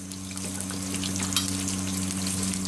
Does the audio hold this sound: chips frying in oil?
yes